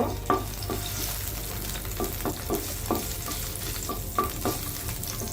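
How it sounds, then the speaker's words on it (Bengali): Dried red chilies fry in hot oil with a steady sizzle, broken by several sharp stirring scrapes and spatters at irregular intervals, close and fairly loud with no talking. "আমি দিয়ে দিব 2টা শুকনো মরিচ। এগুলো একটু ভেজে নিব।"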